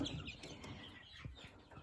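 Soft clucking and chirping from young chickens, steady and close, with scattered short calls over a low background rumble.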